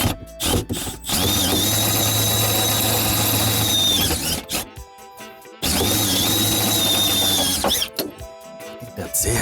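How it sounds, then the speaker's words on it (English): A power drill runs at full speed in two long sustained bursts while installing an inverter in a semi truck cab, with a brief stop and restart between them, loud and close. "Oh, my drill bit came loose."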